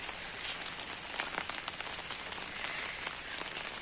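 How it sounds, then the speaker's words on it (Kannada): Steady rain patters on a surface, a continuous soft hiss dotted with distinct drops, moderately quiet and with no talking. "ಆ ಟೈಮಿಗೆ ಮಳೆ ಬರ್ತುಂಟು"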